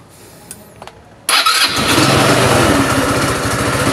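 A motorcycle engine cranks and fires abruptly after a few quiet clicks, then settles into a loud, close, steady idle with a rapid pulsing beat.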